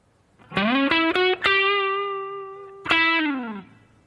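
A distorted electric guitar plays a short phrase from a guitar solo: quick picked notes, a long sustained bend, then a final held note, alone with no talking.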